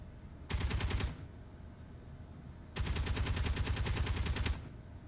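A Gatling gun in Space Engineers fires two long bursts of rapid, buzzing shots, the first short and the second longer, separated by a quieter pause, with no talking.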